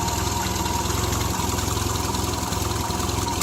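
The engine of a 1975 Triumph Spitfire idles roughly up close with a loud, continuous throb and a low pulsing rhythm that stumbles now and then. No voices are heard.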